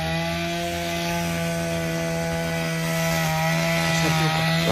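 A grass trimmer runs steadily while cutting grass outdoors, a loud continuous motor whine holding level for the whole stretch with no voices over it.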